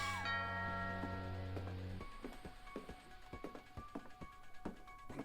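A two-tone ding-dong doorbell in the video game What Remains of Edith Finch, ringing clearly at the start with a long sustained tone, then cut off by a run of sharp knocks and clatter.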